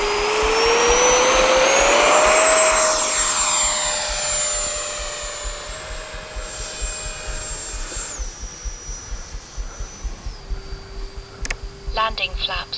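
A Freewing A-6 Intruder RC jet takes off, its electric ducted fan whining loud and rising in pitch before fading off into the distance as it climbs, leaving a quieter rumble with a few bursts of wind buffeting.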